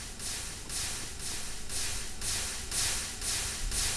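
Lava and a liquid meeting in a video-game Nether continuously form cobblestone, heard as a faint, soft hissing that swells and fades in a steady rhythm about every half second, with no voice.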